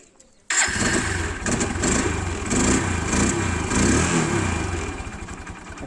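A TVS Apache RTR motorcycle fired up with its electric self-starter after the starter motor's carbon brushes were replaced: a brief crank, then the engine catches and settles into a loud, steady close-range idle.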